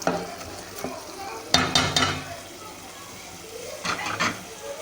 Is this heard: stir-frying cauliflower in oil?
yes